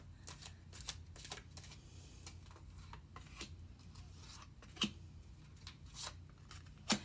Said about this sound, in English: I always shuffle in front of you